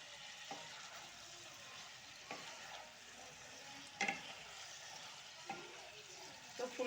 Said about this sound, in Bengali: এগুলো দিয়ে একটু ভালো করে কষিয়ে নেব।